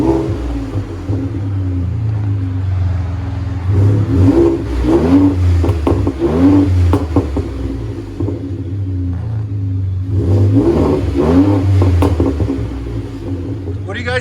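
A Ford F-150 EcoBoost V6 with a Borla Pro XX exhaust revs in two bursts, the deep rumble rising and falling over a steady idle, loud and close.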